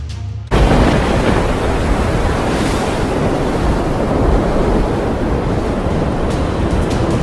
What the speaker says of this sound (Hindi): समंदर में लंबी लंबी लहरें उठ रही हैं